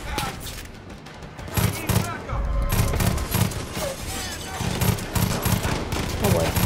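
Rapid automatic gunfire in the Far Cry 5 shooter, bursts of loud, close shots repeating across the clip with game audio beneath, while a player talks over parts of it.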